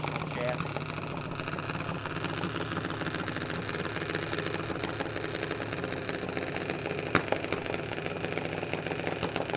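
A drag racing car idles at the start line at Firebird Motorsports Park during a teams race, a dense, steady engine rumble close by, with a commentator talking over it throughout.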